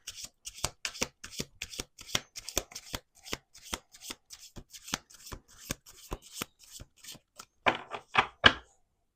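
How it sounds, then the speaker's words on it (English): Playing cards riffle-shuffled repeatedly in quick crisp bursts, close up, ending with a few louder bridging riffles; no talking. "Last shuffle."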